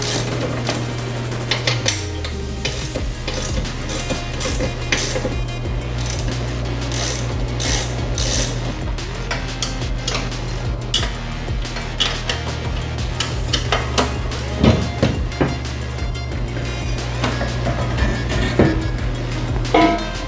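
Ratchet and hammer working on a Suzuki Carry to pull off the plow mount, a steady run of mechanical clicks, clanks and metal knocks throughout, close and fairly loud, with no talking.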